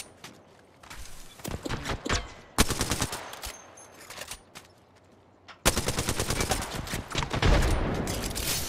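Rapid bursts of automatic gunfire in Apex Legends season 16, loud and close, with intermittent volleys separated by short pauses before a sustained, dense stretch of shooting.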